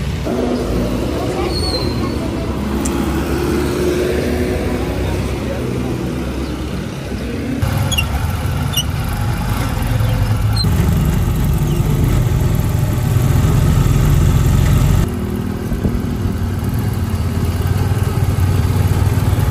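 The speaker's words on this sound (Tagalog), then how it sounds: "Gonna get a tricycle." Motorized tricycle engine droning steadily during a ride through Legazpi, Albay, with low rumble and road noise throughout, growing louder in the second half, with faint voices and street babble in the background.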